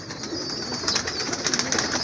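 Pigeons coo softly in a loft, a few throaty rolling calls repeating over a steady background hiss.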